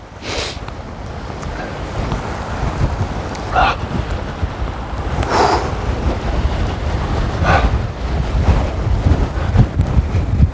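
Cold wind buffeting the microphone on a coastal walking path of the Cleveland Way between Scarborough and Whitby, a loud continuous rumble with several brief gusty bursts throughout.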